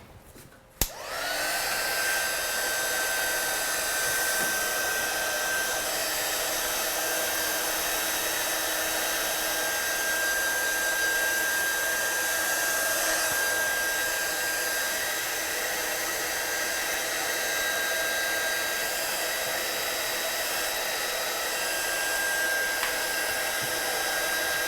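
A heat tool blows hot air across a freshly stamped card, a loud continuous whirring rush that starts abruptly after a click and holds steady with a faint whine.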